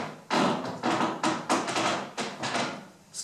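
New wooden floorboards laid over joists in a room without a basement, insulation or sealing creak and knock under walking feet, a series of about seven close, fairly loud footfalls with hollow thuds.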